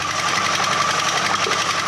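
A stone-crushing machine at a small gold mine grinding gold-bearing rocks, a loud, steady mechanical churning and rattling with no pause.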